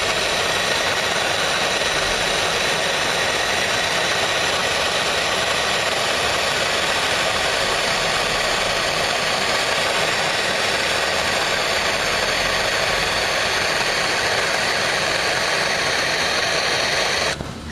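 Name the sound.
MAPP gas torch heating a tractor coil spring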